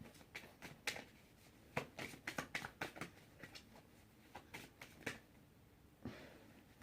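A Yu-Gi-Oh card deck being shuffled by hand, giving irregular bursts of crisp riffling and tapping clicks at close range, with a louder flurry near the end and no talking.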